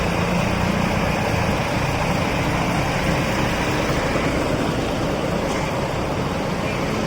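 Steady, continuous low rumble of a bus engine idling at a crowded terminal, close and loud with no breaks, mixed with general outdoor noise.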